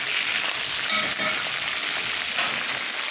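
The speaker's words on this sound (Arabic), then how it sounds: "شوحت اللحمة اهي." Meat fries in a pan with a steady, close crackling sizzle and some stirring noises that carry on without pause, with no one talking.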